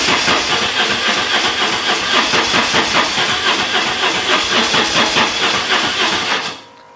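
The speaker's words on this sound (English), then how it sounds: "it's as if the bike stops cranking like completely, and then it's almost as if like the starter motor is just spinning" A BMW R1150 GS motorcycle's starter motor cranks repeatedly as the bike struggles to start, giving a loud, fast, rhythmic whirring churn that runs steadily for about six seconds and then cuts off abruptly, with no voices.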